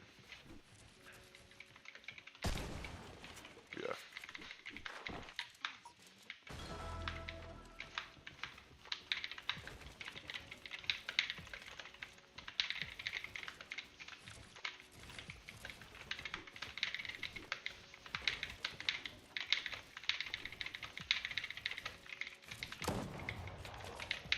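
Steady, rapid typing on a clicky computer keyboard, with dense, close clicks running through most of the stretch and a few louder thumps.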